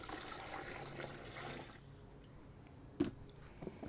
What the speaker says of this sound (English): Pour in our 1 litre of water.